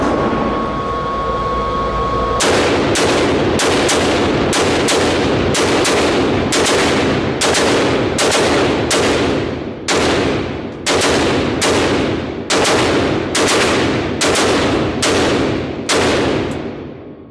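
Rifle firing shot after shot through a magazine, a rapid string of loud, sharp cracks at a steady rhythm, each one ringing out briefly, after a short stretch of background noise.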